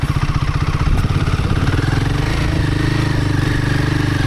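A Royal Enfield Himalayan 450 motorcycle ridden on sandy singletrack in Michigan, its engine a loud, close, steady pulsing thrum with mechanical clatter and slight rises in revs, no speech.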